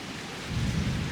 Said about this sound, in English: Oh, it's starting to rain a bit.